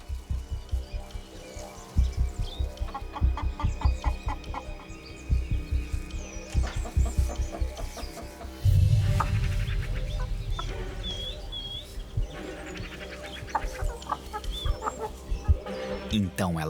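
Chickens clucking inside a henhouse in the Australian wild, a steady run of close, busy clucks and short calls throughout, with one louder low flurry midway and faint bird chirps above.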